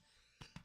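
A short throat-clearing cough in two quick bursts, close by, followed by a rising breathy rasp at the end.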